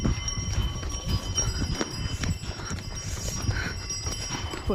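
Horse hooves clip-clopping on a mountain trail during a horseback ride up to Muktinath temple in Nepal, a steady close walking rhythm of hoof strikes with faint ambient noise.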